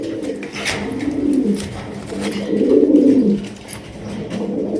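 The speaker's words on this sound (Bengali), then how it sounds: "এটা কিন্তু একদম বিগ সাইজের বোম্বাই কবুতর" Large Bombay pigeons coo in low, throaty rolling phrases, repeated several times up close, with faint rustling in the background.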